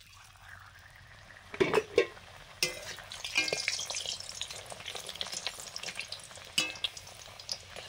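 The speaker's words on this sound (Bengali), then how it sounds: "ডাল পুরি ভাজা শুরু করলাম।" Oil sizzles and crackles steadily up close as dal puri fry, with a few sharp clinks and scrapes of utensils against the pan.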